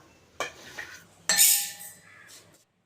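Ration raw rice is scooped with a glass into a vessel: a short clink and rattle, then a louder scraping scoop with a sandy rush of grains that tapers away, heard close and alone.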